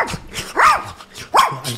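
A man imitating an angry dog, letting out two loud, rising bark-like yelps with growly edges, close and alone, separated by a brief pause.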